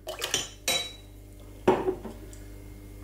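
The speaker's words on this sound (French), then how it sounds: "je mets donc les œufs" Eggs go into a mixing bowl with warm milk and baker's yeast for brioche, heard as a few sharp clinks and knocks against the bowl, close and spaced apart, with quiet gaps and no speech.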